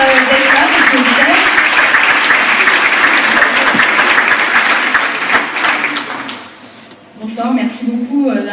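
Audience applause fills a New Year's greetings ceremony, loud and sustained for about six seconds before fading, then a voice starts speaking over the room.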